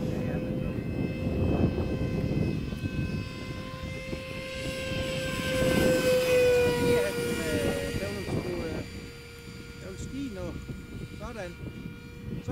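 A Rafale fighter jet roars overhead, its engine drone swelling loudly in the middle then fading, while people talk nearby.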